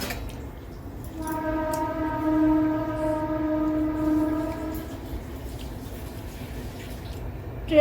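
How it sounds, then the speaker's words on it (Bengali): A passing train blows a long, steady horn for roughly four seconds, fairly loud and close, over a low rumbling background with no talk. "ট্রেন যাচ্ছে"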